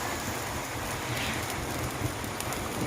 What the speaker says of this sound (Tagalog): Dahil medyo maulan ang panahon